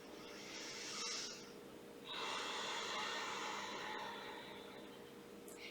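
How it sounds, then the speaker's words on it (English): Ujjayi yoga breathing, an ocean-like rush of air through a constricted throat, heard close and soft as one short breath followed by a longer, steadier exhale, with no talking. "you constrict the back of your throat, making an ocean-like sound"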